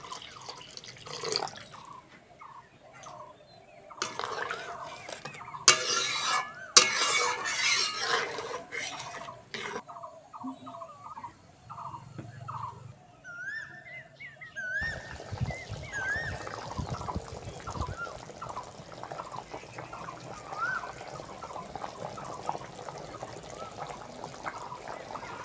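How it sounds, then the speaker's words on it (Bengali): Water poured into a pan of cooked-down spices for a cauliflower curry with chickpeas, scattered drips and splashes at first, then a steady close trickling and pouring that fills the rest. "এবার জল দিয়ে দেবো।"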